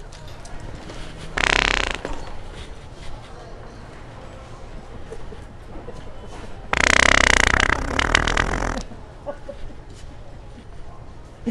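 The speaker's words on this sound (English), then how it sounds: "It's a fart toy." A fart toy lets out two loud, buzzy blasts, a short one early and a longer one later, with quieter room sounds between them.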